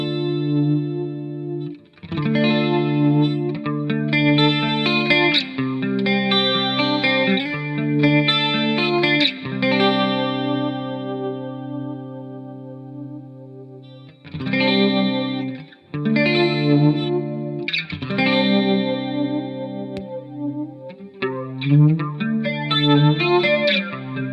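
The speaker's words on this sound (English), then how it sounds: "It's getting into like flangery kind of swooping comb filter thing." Sustained electric guitar chords through a flanger effect pedal, sweeping and swooshing as it rises and falls, played loud for about twenty seconds with brief pauses between phrases.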